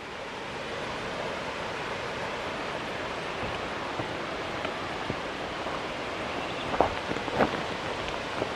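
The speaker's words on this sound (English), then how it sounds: "Wow, that's a waterfall." The rushing roar of Mambo waterfall in Freetown, Sierra Leone, a dense, continuous wash of falling water heard close up, with a few faint clicks and splashes on top.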